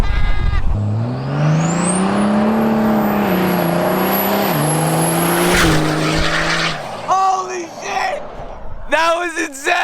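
A roughly 1,400-horsepower car roars loud and close, engine pitch climbing through a sustained high-revving run before cutting off, followed by excited shouting.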